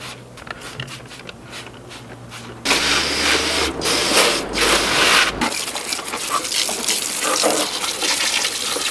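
A strong spray of water from a hose hits a Subaru's engine bay after a quiet start, a loud hissing rush lasting several seconds before easing into softer splashing.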